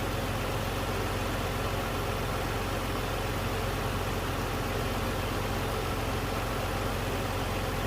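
A 2004 Nissan Teana 230JM with a 2.3-litre V6 idles steadily, a smooth, even engine hum heard close up without any voices.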